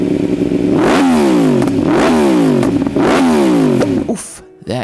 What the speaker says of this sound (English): not to mention the intoxicating cross-plane four-cylinder engine